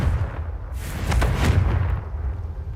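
A muffled, rumbling blast from the Confringo fire spell in the Hogwarts Legacy video game, swelling into a bursting boom with crackling debris and fading away, heard over a low steady background drone without talk.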